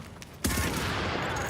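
Gunfire in The Division video game during a global event: a sudden loud burst of rapid shots that continues as a dense, sustained volley.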